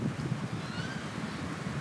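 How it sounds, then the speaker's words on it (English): Wind buffeting a microphone outdoors during a drone flight, a continuous low rumbling gusty noise, steady and close, with no talk. "It's quite windy right now as well."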